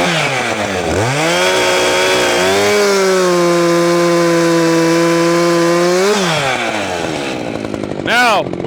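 A 50cc chainsaw with a full-chisel chain revs up hard, holds a loud, steady high whine for several seconds, then drops back to idle before a brief blip, heard up close.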